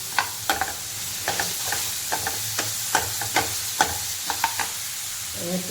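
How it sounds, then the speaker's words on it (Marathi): Chopped onion sautéing in a pan with garlic paste for a dry cauliflower dish, with a soft steady sizzle under repeated close, sharp scrapes and taps of a spoon stirring the pan, and no talk. "एक मोठा कांदा कापून घेतला मी थोडं परतून घेऊया आपण लसूणची पेस्ट"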